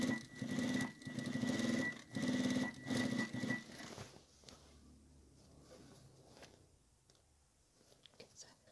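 A sewing machine stitches a fabric seam on a three-tier frilled waist apron of cotton and floral-print cloth, running in three or four short, close bursts before falling quiet.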